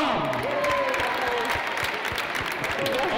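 An audience claps at an awards ceremony for women in aeronautics careers, a steady patter of many hands throughout, with some voices heard under the clapping.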